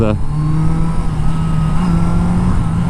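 A 1982 Yamaha Seca XJ650 motorcycle engine loud and close, winding out as it rides, its revving tone pulling steadily on under wind rush.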